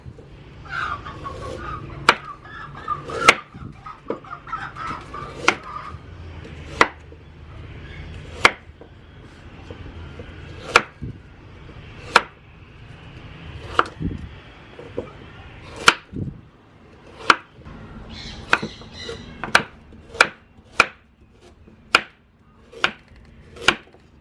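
Knife chopping peeled carrots into small pieces on a cutting board, sharp distinct thwacks in an uneven rhythm, close and clear against faint background noise with a rooster clucking now and then.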